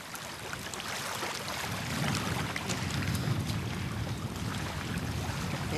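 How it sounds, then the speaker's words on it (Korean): Strong wind blows over a normally calm lake, whipping up waves that wash and slap in a steady, loud roar with broadband gusting noise and no voices throughout. "바람에 파도 소리마저 커져가고 있다"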